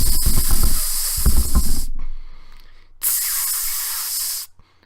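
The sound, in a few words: silly string being sprayed at a turtle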